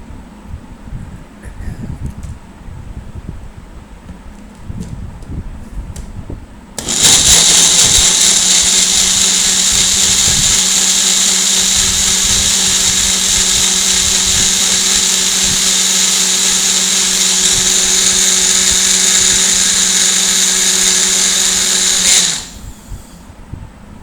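A loud blender making mango juice whirs to life after a quieter stretch, runs at a steady high-pitched drone for about fifteen seconds, then cuts off.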